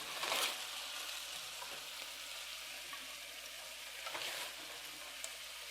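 Shrimp and zucchini cooking in a pan, a soft steady sizzle with a couple of brief louder stirring scrapes, fairly quiet and with no talking.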